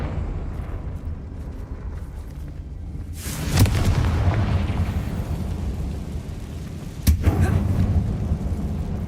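A Confringo fire spell goes off with a heavy explosive boom inside a closed mine tunnel in Hogwarts Legacy, with a rumbling tail and a second sharp blast a few seconds later, both loud over a constant low ambient drone.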